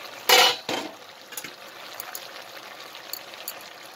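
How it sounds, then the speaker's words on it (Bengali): Eggplant pieces go into a cooking pot while a vegetarian panchratna dish is made: two quick soft clattering drops close by, followed by a few faint small clinks. "তারপর বেগুনগুলো আমি দিয়ে দিচ্ছি ওর মধ্যে"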